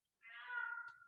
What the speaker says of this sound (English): got a cat yelling here.